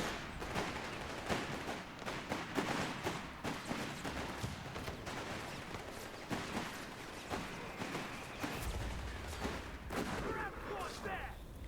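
Gunfire crackles through a WW2 Company of Heroes battle on a river map, with rapid, repeated shots and bursts close to one another, fairly faint overall, and some speech underneath.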